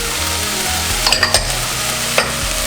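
Sausages and tomato sauce are stirred in an iron skillet, with a spoon scraping and clinking against the metal a few times over a steady soft sizzle, close and clear.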